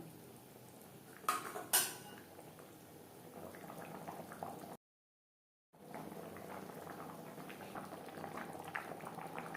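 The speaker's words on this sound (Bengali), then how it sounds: "গ্রেভির সাথে ডিম আরও তিন চার মিনিট রান্না করবো" Eggs simmering in a cauliflower gravy in a pan, a soft steady bubbling with a couple of sharp metallic utensil clinks early on and a brief silent gap midway.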